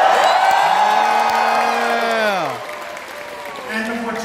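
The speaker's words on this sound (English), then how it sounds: "give a cheer if you were before 2020." A concert audience at a Sonic Symphony show cheers, whoops and applauds loudly, with a surge that fades after a couple of seconds before a fresh swell of cheering rises.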